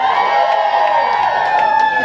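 A concert audience at a show cheers and whoops in a loud, sustained, close wash of crowd noise filling the whole brief moment.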